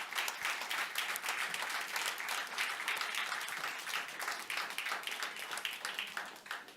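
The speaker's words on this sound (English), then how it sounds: "Once again, a round of applause." A conference audience at a high-level regional clusters session claps steadily, a dense crackling applause heard at moderate distance that holds evenly from start to finish.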